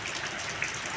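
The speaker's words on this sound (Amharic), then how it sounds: "የዛሬው ዝናብ ይሄን ይመስል ነበረ" Steady rain falls in a dense, even patter of drops hitting a surface, moderately loud and continuous for a brief moment with no voices.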